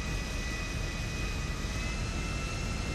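Aeroplane engine in the video game GTA, a steady broadband roar with a faint whine, continuous and even throughout.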